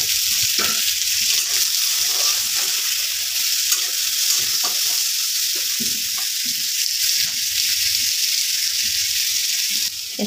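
Onions fry in hot oil in a home kitchen, a continuous loud sizzle with bright hiss broken by occasional stirring scrapes and pops, close up and without talk.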